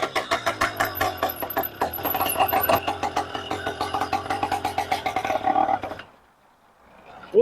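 BikeBerry 100cc motorized bike engine with F3 Thruster exhaust runs close and loud, a rapid pulsing two-stroke putter for about six seconds before cutting out to near silence, then a single thump.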